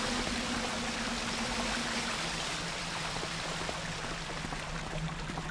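Flowing stream water ambience from the video game Thief, a steady broadband rush of running water with faint bubbling, even and continuous throughout with no voices.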